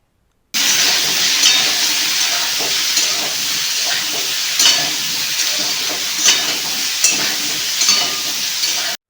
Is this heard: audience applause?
no